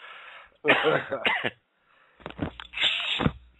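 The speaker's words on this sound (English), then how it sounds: "I got this damn cough." Two harsh bursts of coughing up close, the first a rough hacking fit, the second a couple of heavier coughs after a short pause.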